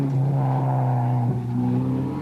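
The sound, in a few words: rally car engine during ADAC Germany Rally 1994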